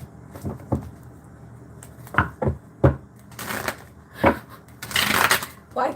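Tarot cards shuffled by hand in irregular bursts, with soft riffling and sharp slaps of the deck, fairly close and loud, with quieter handling gaps between.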